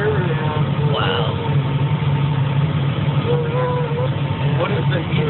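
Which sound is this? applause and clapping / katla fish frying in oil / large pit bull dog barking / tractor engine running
tractor engine running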